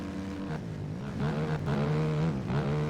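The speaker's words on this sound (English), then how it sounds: "KTM heading up the hill here" A KTM motocross bike ridden by a privateer in a B Class race climbs a hill, its engine droning loud and close, pitch shifting and rising with each throttle push across the run.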